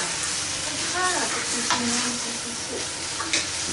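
Noodles stir-fried in a hot pan, a steady broadband sizzle with scraping and tossing bursts throughout, close and loud, with faint voices in the background.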